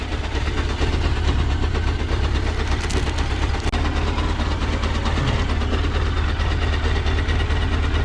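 A restored GP racing motorcycle engine idles just after start-up, a loud, steady, throbbing low rumble with a fast even pulse close to the microphone and no talking over it.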